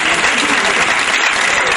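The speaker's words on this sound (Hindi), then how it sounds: "कुछ बहनें मातृशक्तियां जी और आशा अग्रवाल जी, उनका सम्मान करें एक बार आप भी तालियों के साथ" An audience at a Hindi poetry gathering breaks into dense, steady applause, loud and close, with no other sound over it.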